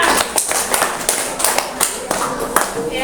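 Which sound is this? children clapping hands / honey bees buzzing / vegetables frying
children clapping hands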